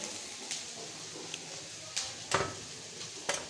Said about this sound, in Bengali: এদিকে হচ্ছে আর কি পেঁয়াজ আর লঙ্কা ভাজছি